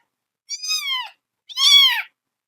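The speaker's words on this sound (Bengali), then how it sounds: "আর ম্যাও ম্যাও, এটা কি?" Two clear, high kitten meows, close and fairly loud, each lasting about half a second with a short silence between them.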